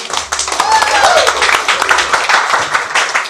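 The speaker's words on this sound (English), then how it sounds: "I never get applause on just hello everybody" Audience applause at a welcome in a theater arts venue, a dense, continuous wash of clapping hands that stays fairly loud throughout, with a voice speaking over it.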